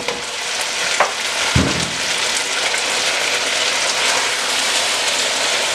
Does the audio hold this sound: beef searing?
yes